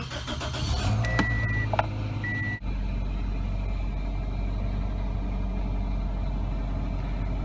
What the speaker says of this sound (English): Next, turn on the car to power the code reader.